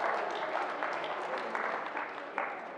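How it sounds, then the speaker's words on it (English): Clapping from a group of students at a STEAM camp, fairly close and uneven, with bursts of scattered hands and some voices mixed in. "Let's clap for her."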